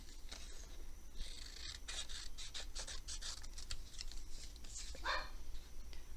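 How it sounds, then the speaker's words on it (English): A dog barks repeatedly in short, irregular bursts, somewhat distant, over a low steady hum. "I'm sorry about the dog."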